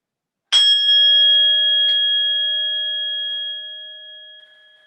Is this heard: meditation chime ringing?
yes